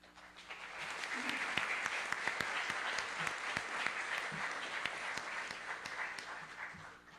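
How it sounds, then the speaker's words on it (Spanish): A round of applause rises from an audience at an academic colloquium round table for a speaker, swelling from quiet into dense clapping with a few sharp individual claps, then fading toward the end. "Démosle un aplauso."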